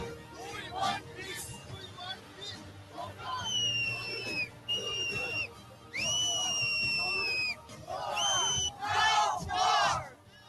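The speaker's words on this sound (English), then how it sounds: "The crowd here in New York City is quite larger than they had expected." A large crowd of anti-war demonstrators in New York City cheers, whistles and shouts, with loud bursts of chanting and whistle blasts over a busy murmur of voices.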